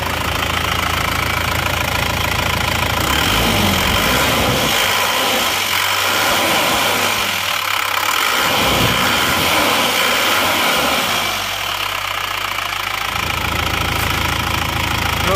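Isuzu Panther diesel engine idling with a steady, gruff clatter and rhythmic knocking, loud and close, running alone for the whole stretch with slight dips in tone midway.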